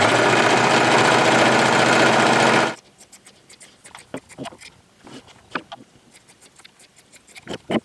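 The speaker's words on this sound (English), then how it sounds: "I'm going to give these a quick sew, trim it up, and turn it right side out." A sewing machine stitches marionette fabric in a loud, steady, close buzzing whir that runs for under three seconds and then stops abruptly, leaving scattered soft handling clicks and rustles.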